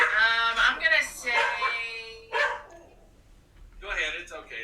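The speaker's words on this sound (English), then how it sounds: "The dogs are just barking." Dogs bark and yelp in loud, close bursts, then pause briefly before another burst, with no talk over them.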